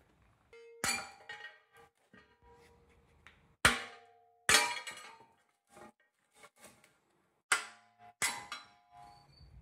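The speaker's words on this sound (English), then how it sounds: "you can easily knock them off using a large hammer" Sharp metallic clangs from a large hammer knocking cut slices off an aluminum wheel rim, about six loud strikes at irregular intervals with ringing tones and softer taps between.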